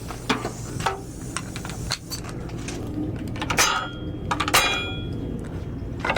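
A staple gun drives 1.5 inch staples into pallet wood during a shelf build, giving a few sharp, close snaps over a steady background rumble.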